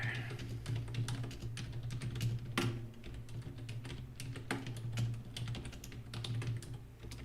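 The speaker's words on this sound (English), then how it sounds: "Don't judge my typing skills," Quick, uneven tapping on a computer keyboard, many sharp close keystrokes in bursts over a low steady hum, with a voice talking briefly.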